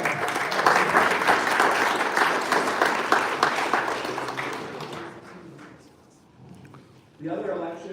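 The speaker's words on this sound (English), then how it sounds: "Let's give a round of applause for that." A congregation at St. Philip's Episcopal Church in Rochester, Michigan claps after a vestry election vote, a dense round of applause that thins and fades out before a voice begins speaking.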